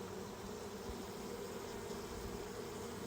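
Honey bees swarming around beehives in a subarctic apiary, a steady close, even droning buzz that fills the whole stretch with no pauses and no voices.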